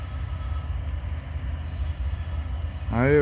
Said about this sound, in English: I hear brake shoes on.